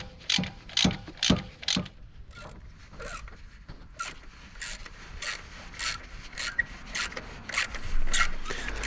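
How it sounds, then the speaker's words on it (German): Ratchet clicks loosening the belt tensioner bolt on a Toyota Aygo, a series of short, close clicking strokes with uneven spacing and slight scraping in between. "Also jetzt habe ich hier die untere Schraube komplett abgeschraubt von dem Spanner, von dem Keilriemenspanner."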